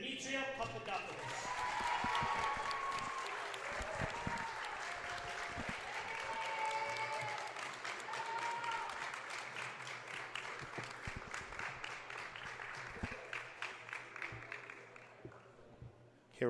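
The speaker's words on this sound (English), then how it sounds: "please give a warm round of applause and congratulations on graduating early, Demetria Papadopoulos." Sustained applause from a gymnasium crowd at a women's college basketball Senior Day, honoring the first senior; loud steady clapping that swells, holds for about fifteen seconds and tapers off, with a public-address voice over it.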